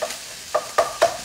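Ground beef being mashed and stirred in a frying pan for a quick low-carb dinner, with three distinct scraping strokes of a utensil against the pan over a faint background sizzle.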